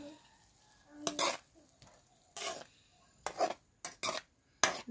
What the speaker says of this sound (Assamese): দি লোৱাৰ পিছত মই অলপ লৰাই দিছোঁ